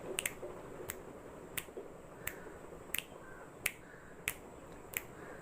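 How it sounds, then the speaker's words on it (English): Sharp, distinct finger snaps ring out one at a time at a steady, roughly even rhythm, about nine crisp clicks with quiet pauses between them. "Snap your fingers."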